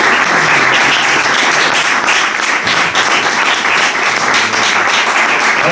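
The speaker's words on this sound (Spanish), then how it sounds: "un fuerte aplauso para el autor, para Roberto." An audience at a book presentation at the Centro Riojano gives the author, Roberto Rivera, sustained, dense applause that stays loud and steady throughout, with no talking over it.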